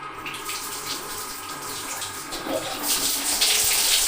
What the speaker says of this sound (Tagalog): Yan yung water ng shower.